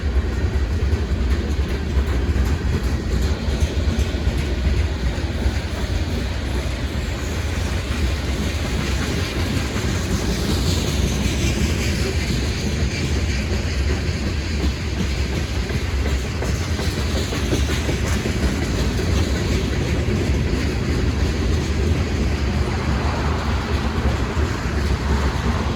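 A Norfolk Southern freight train rolls past near Bluefield, West Virginia, with a former BNSF SD70MAC locomotive running as distributed power, a loud, sustained rumble and clatter of rail cars going by without any talk.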